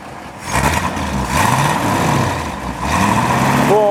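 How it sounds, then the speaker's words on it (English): A 1957 Ford Thunderbird's Y-block V8 revs several times, each throttle blip rising and falling over a lumpy idle, loud and close, ending with a whine. "I'll give it a little rev. Sound of the white block."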